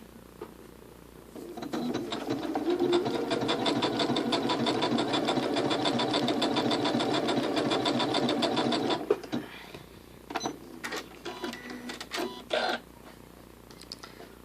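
A Janome Skyline S7 sewing machine runs a fast, steady mechanical stitching buzz for about seven seconds, then stops, followed by a few short clicks and handling noises.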